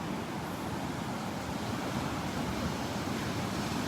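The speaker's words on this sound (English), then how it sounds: "Loving the sounds of these waves." Steady ocean surf washing onto a beach at Delnor-Wiggins, a continuous broad roar with no voices, some wind buffeting in the background.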